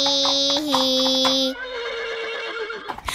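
A horse whinnies loudly in a cartoon farm-animal song for children, a high shaky neigh followed by a lower trailing whinny, with no voices during it.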